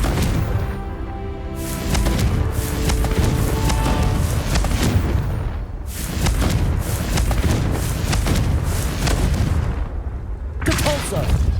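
Repeated Confringo fire-spell blasts in Hogwarts Legacy, loud booming explosions in dense bursts separated by brief gaps, set against battle noise and game music.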